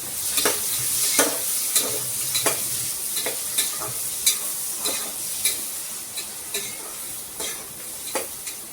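Onion fries in a pan for mushroom pulao, a steady close sizzle broken by repeated scraping clinks of a spoon stirring against the metal every second or so.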